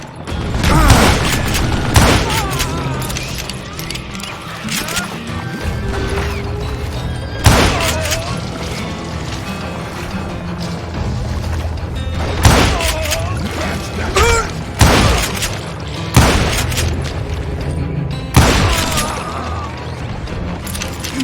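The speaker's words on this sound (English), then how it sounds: "a fusillade of bullets come raining down from on high" A fusillade of gunfire in the Western shooter Call of Juarez Gunslinger, with repeated loud sharp bursts and crashing impacts scattered across a busy, continuous game soundscape.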